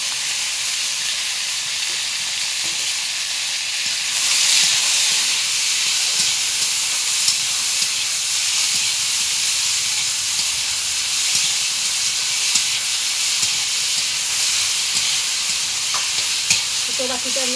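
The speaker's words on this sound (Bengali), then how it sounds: "টমেটোগুলো ভেজে নেব" Tomatoes fry on a wood-fired stove outdoors, a loud, continuous hissing sizzle with occasional faint stirring clicks throughout.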